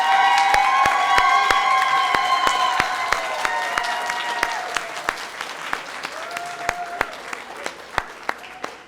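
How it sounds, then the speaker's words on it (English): Applause with a few cheers from an audience at a Hispanic Heritage Month celebration, a steady crowd clapping that fades gradually over several seconds, with sharp individual claps standing out near the end. "Let's give a big round of applause to my honoree, Maria Santiago."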